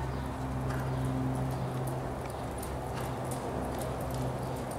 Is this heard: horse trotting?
yes